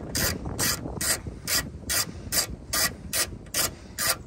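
A hand ratchet tightens a nut while fitting tow mirrors on a 2017 Toyota Tundra, giving about ten evenly spaced, close, crisp clicking bursts in a steady rhythm, with no voices.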